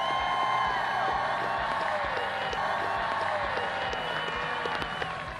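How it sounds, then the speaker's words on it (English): A football game crowd applauds and cheers loudly and continuously, dense clapping mixed with whoops and shouting voices throughout. "Ladies and gentlemen, a big round of applause for Jordan Schroeder."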